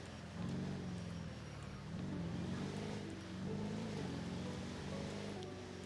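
A steady, droning ambulance engine hum in a role-play video game, with a low wavering pitch that rises and falls slightly, continuous and fairly loud throughout, with no speech.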